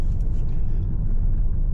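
Honda Fit car pulling into a gas station, a low steady engine and road rumble heard from inside the cabin, close and continuous.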